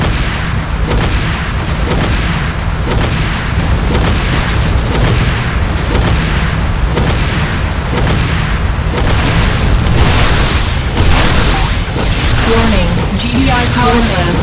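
The GDI Tiberium Refinery blows up in the game Renegade: a dense, continuous rumble of heavy booms and battle blasts, loud and sustained throughout, with in-game voice announcements over the top.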